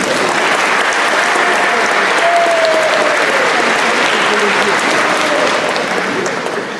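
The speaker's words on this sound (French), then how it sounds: "On peut applaudir aussi." Pilgrims applaud at a diocesan pilgrimage closing celebration in Lourdes, a dense, steady roar of many hands clapping that fills the space and holds loud throughout, with no pauses or talk.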